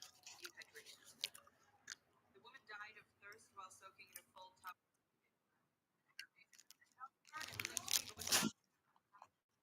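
A granola bar is unwrapped and eaten, with close, soft crinkling and crunchy chewing in scattered bursts, then a louder burst of wrapper tearing near the end, amid quiet gaps.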